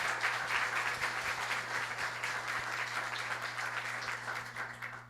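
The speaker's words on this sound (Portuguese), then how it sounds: "vamos acolhê-los com uma salva de palmas" Audience applause inside a church at a diocesan opening event, a dense, steady round of clapping from a crowd that gradually tapers off at the end.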